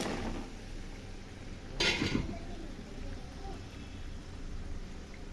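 A spoon stirs radish and pangas fish curry in a pan, giving one brief clatter against the metal over a low steady background hiss.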